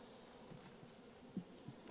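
Honeybees buzz in a hive box while a split hive is being made, a faint, low, continuous hum with a few slightly louder passes of single bees near the box.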